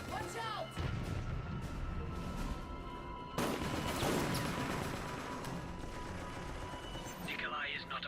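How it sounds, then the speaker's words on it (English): A grenade goes off in the Operation Raccoon City game as a sharp, crashing blast amid ongoing gunfire and combat noise, loud and close, with voices calling out over the action. "Grenade. Watch out."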